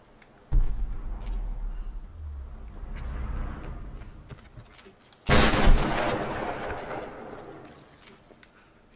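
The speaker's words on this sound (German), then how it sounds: "ich hasse das laute Schießen immer noch" Loud gunfire from the Tomb Raider video game: two heavy, booming shots a few seconds apart, each with a sharp attack and a long rumbling tail, over quiet game ambience.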